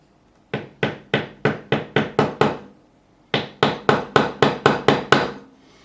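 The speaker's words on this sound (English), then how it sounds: "my fretting hammer, just to get them in." Fretting hammer tapping new Jescar EVO Gold frets into the neck of a 2007 Fender Stratocaster through a small piece of wood: two quick bursts of sharp knocks, seven then nine, close and crisp, with a brief pause between them.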